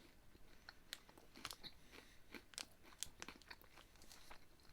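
Close, quiet chewing of a Lucky Charms marshmallow cereal bar, with soft crunches and sticky mouth sounds repeating irregularly over a few seconds.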